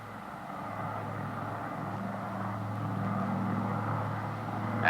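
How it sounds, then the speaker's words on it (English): Douglas DC-6 four-engine airliner in flight, a steady droning propeller-engine hum that grows slightly louder toward the end, heard alone without voices. "the four big engines will cruise the DC-6 at better than 300 miles per hour"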